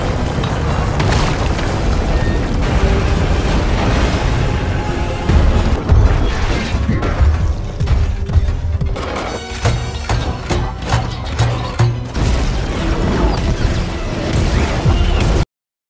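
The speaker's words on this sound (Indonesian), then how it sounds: "segera bom kura-kura pun dilontarkan" Giant robot turtle's bomb launched and exploding in a film scene, a dense barrage of loud booms, crashes and rumbling blasts with whooshing debris, continuing in bursts to the end.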